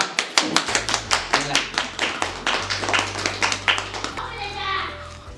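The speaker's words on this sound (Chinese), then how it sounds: "鼓掌。" A family claps together at an uncle's birthday celebration at home, producing steady, rhythmic clapping that runs through the moment with a voice and other voices mixed in.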